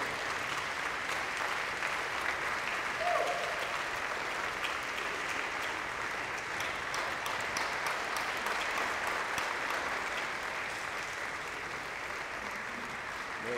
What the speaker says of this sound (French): Veuillez vous lever, encore nous acclamons.